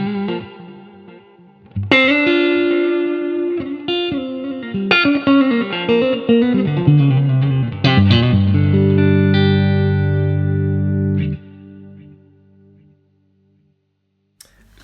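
Electric guitar run through a slow delay pedal on its amber setting, playing melodic lead lines whose notes smear into trailing repeats, ending on a held chord that rings out and fades to silence.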